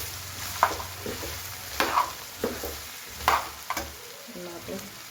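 Okra frying in a pan with garlic and chili, a low steady sizzle broken by a few distinct stirring scrapes and knocks, close by.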